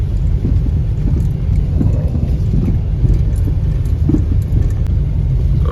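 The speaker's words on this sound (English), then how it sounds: "It's already started raining." Rain falls steadily outdoors on a farm, a dense, constant patter under a low rumble like a nearby engine or distant thunder, with no voices.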